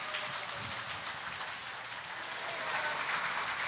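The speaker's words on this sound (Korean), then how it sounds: "자, 일단 박수가 크게 나와야 될 것 같아요." Steady applause from a studio audience on a Korean television singing program, a dense, even wash of clapping heard at a moderate distance with no voices over it.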